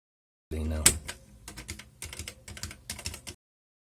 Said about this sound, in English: The keyboard is now working great. All the keys are working properly the way they should